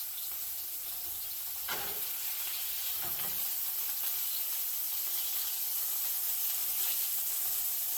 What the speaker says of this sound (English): Once you put the bacon grease back in it, that's when we get to that delicious frying. We'll fry these taters.